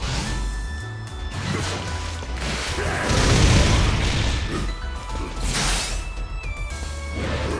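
Blastoise's cannon attack in Pokken Tournament DX lands with heavy, booming crashes and whooshing blasts, loud and close over continuous game music.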